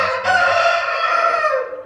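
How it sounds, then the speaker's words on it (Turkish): A Brahma rooster crows once, close and loud, a hoarse drawn-out call that fades at the end. "Bakın şurada bir tane Brahma horoz"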